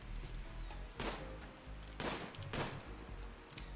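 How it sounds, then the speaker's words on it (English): Colonists in the game Rimworld firing at a tortoise, several sharp gunshots cracking out in quick separate bursts over a low, quiet background. "You're firing through Brian to kill a tortoise here."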